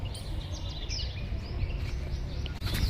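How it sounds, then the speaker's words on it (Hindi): Small birds chirp and tweet in bright bursts over a low outdoor rumble, several calls overlapping throughout. "चिड़ियों की चहचहाट सुनाई दे रही है आपको।"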